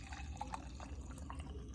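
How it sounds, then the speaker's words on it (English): Hot herbal chocolate poured from a pan into a jar that held milk, giving a soft, steady liquid trickle with faint drips over a low background hum. "So I'm just simply going to pour it into the same"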